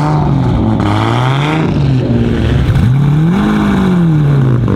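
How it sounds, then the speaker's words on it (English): A car engine idles loudly up close, its low rumble wavering and dipping in pitch with a slight lope, steady throughout. "Some of the best idling noises that you can hear."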